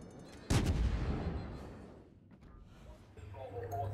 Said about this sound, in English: C is firing the odd random shot at a hill or a cliff